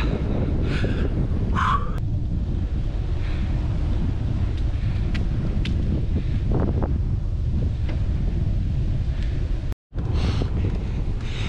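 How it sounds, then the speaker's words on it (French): Heavy wind buffets the microphone in a continuous loud rush, with no talking, just the steady blustery roar. "Il y a un vent de fou."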